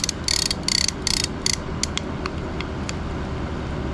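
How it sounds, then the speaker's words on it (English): Rapid ratcheting clicks from a mooching fishing reel on right-hand retrieve come in several quick bursts, then slow to sparse single ticks over a low background hum. "So now you hear that click when you go right hand retrieve."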